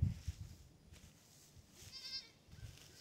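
Goat bleats in a barnyard where new paddocks for mother goats and newborn kids are being set up, with a couple of short, fairly faint high-pitched calls among low background rumble and handling noise.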